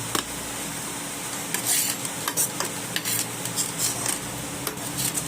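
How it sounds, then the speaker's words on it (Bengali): Mixed vegetables with soya chunks sizzle steadily in a pan while a utensil stirs and scrapes, with occasional metallic clinks against the cookware. "আবার ভালো করে ভেজে নিতে হবে।"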